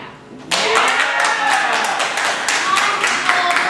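A burst of many hands clapping together, starting abruptly and continuing steadily at a lively pace, fairly close and loud.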